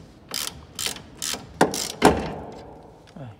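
A ratchet wrench with a 17 mm socket loosens the lower rear shock absorber bolt on a 2005-2012 Chevrolet Lacetti in a cramped space, giving five distinct clicking ratchet strokes in a steady rhythm, close and fairly loud.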